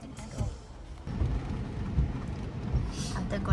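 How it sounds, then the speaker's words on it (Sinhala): Heavy rain pouring on a rainy day with low rumbles of thunder, steady hiss of rainfall close by and rolling thunder underneath, with faint talk. "අද ගොඩක් වැස්ස දවසක්."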